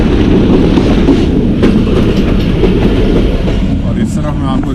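Heard from on board, the Mehr Express rolls loud and steady toward the Chenab River bridge in Pakistan, with rhythmic clickety-clack of wheels on rails and a brief squeal near the end, while someone talks over it.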